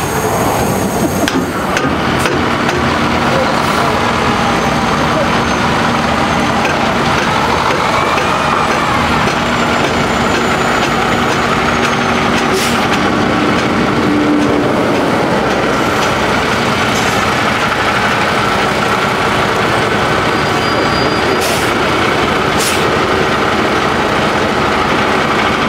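A heavily damaged Freightliner Cascadia truck, torn in half, driven during a heavy recovery: a loud, steady diesel engine drone with rattling and clanking throughout, close by and constant.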